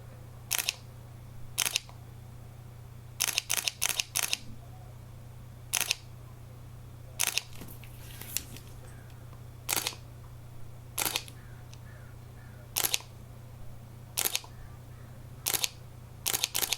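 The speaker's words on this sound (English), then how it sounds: "If you guys want to hear what the shutter sounds like" Fuji X-Pro2 mirrorless camera shutter firing, crisp close clicks in irregular single shots and quick bursts over a low steady hum, with no voices.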